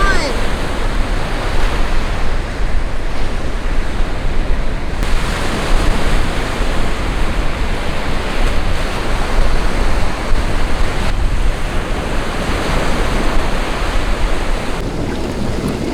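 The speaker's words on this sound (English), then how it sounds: "I can hear the water." Ocean surf rolls onto a beach at Aurora Anguilla Resort, a loud continuous wash of waves with wind noise buffeting the microphone throughout.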